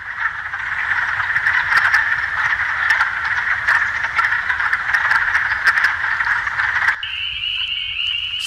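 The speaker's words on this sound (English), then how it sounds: "The first one, wood frog." Wood frogs calling in spring, a dense continuous chorus of rattling croaks that fills the air steadily, changing abruptly near the end to a different high steady trill.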